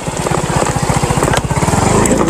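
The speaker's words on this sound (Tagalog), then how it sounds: "Buti na kayang iakyat yung motor." A motorcycle engine labors uphill on a steep road, its low rapid pulsing putter loud and close, steady throughout with a slight rise at the end.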